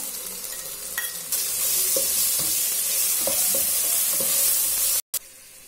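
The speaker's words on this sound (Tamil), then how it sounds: "இப்போ இஞ்சி பூண்டு பேஸ்ட் சேர்த்துக்கிறேன்." Ginger garlic paste frying with onions in hot oil gives a steady, loud sizzle, with a few sharp scrapes of a spoon stirring the pan, then a sudden brief cutoff near the end.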